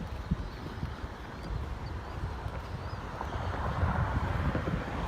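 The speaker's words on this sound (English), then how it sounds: "It still feels pretty windy out here." Strong wind buffets the microphone on a Mississippi beachfront a couple of days after Hurricane Nate, a continuous low rumbling gust that grows slightly louder toward the end.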